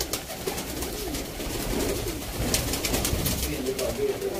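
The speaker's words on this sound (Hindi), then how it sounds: "सियालकोटी काले मुँह वाले कबूतर, काले मुँह वाले बतेरे कबूतर" Sialkoti black-faced pigeons coo softly in low, rolling calls that repeat over steady background noise, with occasional flutters and light rustling nearby.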